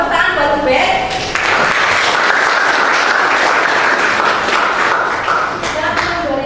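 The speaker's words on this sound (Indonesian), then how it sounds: "Nah, tepuk tangan buat Ubed." A classroom of students claps for a classmate in a sustained round of applause, dense and fairly loud, with a teacher's voice briefly heard at the start.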